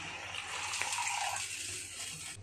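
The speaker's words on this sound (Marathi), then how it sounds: "आता यामध्ये ना पाणी घालायचं आपल्याला" Water pours into softened jaggery in a pan, a steady close gushing stream that swells for about a second and then tapers off into quieter bubbling.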